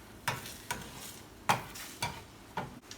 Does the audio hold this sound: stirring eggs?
yes